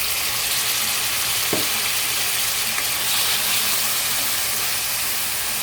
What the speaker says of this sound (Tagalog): Gigisahin natin mabuti ang sibuyas at saka ang kamatis.